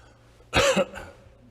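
A single rough cough and throat clear bursts out at close range, followed by a softer second catch, then quiet.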